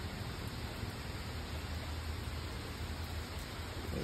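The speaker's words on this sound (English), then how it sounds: "I'm just sitting out here watching it rain." Steady rain falls during a storm, heard from a front porch as a constant, even hiss of broadband wash with no talking.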